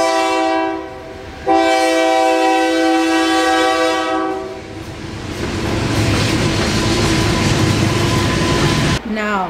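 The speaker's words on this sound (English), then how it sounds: "When the train goes away, we'll talk." A train passes on a nearby railway beside a home, opening with a loud sustained horn blast, then a long rumbling rush of wagons rolling by close, ending abruptly.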